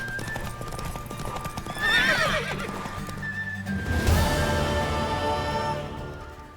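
A horse whinnies loudly in The Witcher 3, then hooves clop and another neigh follows, with a steady hum of game music underneath.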